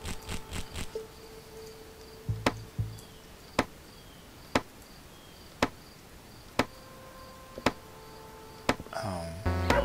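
A hammer pounds in the video game Garvest Boon, with sharp, evenly spaced thuds at a steady rhythm over a quiet hum of game ambience, ending in a busier swell of sound effects.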